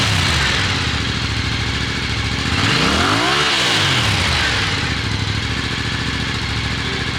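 Close and loud, a Yamaha R7 motorcycle with a new exhaust and no catalytic converter idles, then gets one smooth rev that climbs and falls mid-way before dropping back to a steady idle, with no voices.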